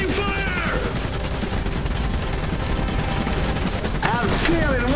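Dense bursts of gunfire and fusillades from battling units in the Iron Harvest strategy game, loud and continuous, with voiced unit lines and whistling effects mixed in.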